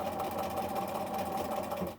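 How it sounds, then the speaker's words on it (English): A sewing machine chain-sews small 1.5-inch quilt fabric scraps in one steady, continuous whirring run, close and even throughout. "it's the chain sewing so I don't have to waste thread"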